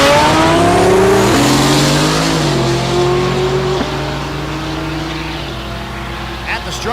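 The Joe Tech GTR drag race car screams down the strip at a drag race at Thunder Valley in Noble, Oklahoma, its engine climbing loud and close through several gear changes before fading into the distance, with an announcer talking throughout.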